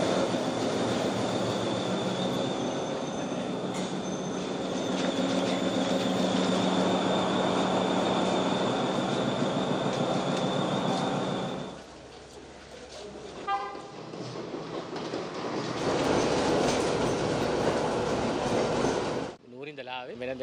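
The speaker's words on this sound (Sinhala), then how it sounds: "එක්ස්ප්‍රෙස් කෝච්චිය" An express passenger train rolls along the rails in Sri Lanka, loud and near, with a sustained rumble, horn toots and squealing wheels before it fades and then surges again; voices may be faintly mixed in.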